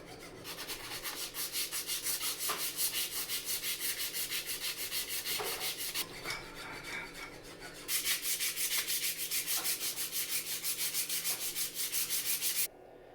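A surface is sanded by hand before painting, producing a steady rhythmic rasping rub close by, with a brief pause near the middle and a louder, brighter stretch afterward.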